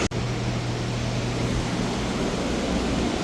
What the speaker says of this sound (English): You're gonna have to excuse the fan.